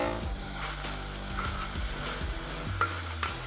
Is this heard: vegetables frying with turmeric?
yes